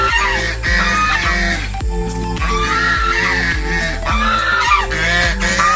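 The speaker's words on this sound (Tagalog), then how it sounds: "Dami lang alagang mga pato," A crowd of poultry calls loudly and constantly nearby on a rural property in Lopez, Quezon, with honking, quacking ducks overlapping with clucking chickens in a noisy barnyard chorus.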